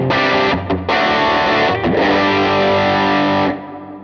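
Distorted electric guitar run through a Universal Audio Golden Reverberator pedal on its hall setting, loud sustained chords with brief gaps and a lush reverb tail as it ends.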